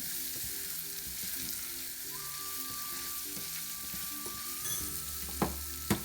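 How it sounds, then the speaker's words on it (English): Upma stirs in a frying pan, a soft continuous sizzle with light scraping strokes of a spoon and two sharper clinks near the end, close and unaccompanied by speech. "give a nice stir."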